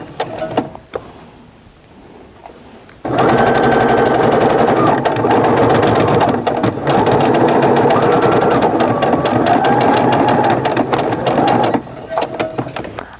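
A sewing machine stitches a Valentine's mug rug with a loud, steady run of rapid needle strokes lasting several seconds. It slows near the corners, starting and stopping briefly at the ends.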